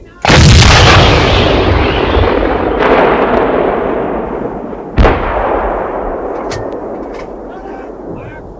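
Loud recorded gunfire, heavy artillery-like booms with long rolling reverberant decays, a big blast at the start and another sharp report midway, followed by fainter distant cracks.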